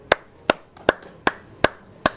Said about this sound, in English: A resounding clatter